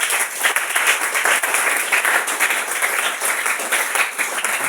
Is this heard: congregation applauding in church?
yes